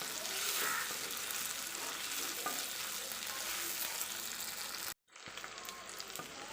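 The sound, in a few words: onions sautéing in pan for brinjal kadayal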